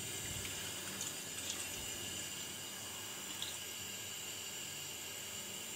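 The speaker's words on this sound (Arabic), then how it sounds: "وبعد كده بنحط لها الميه بتغطيها، هنحط الميه" Water runs steadily into a cooking pot of fava beans for Damietta-style bessara, a faint, continuous tap-like wash with no talking.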